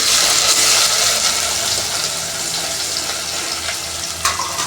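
Radish greens hit hot oil seasoned with asafoetida, setting off a loud, dense sizzle that rushes at first and settles into steady frying, with a small clink near the end.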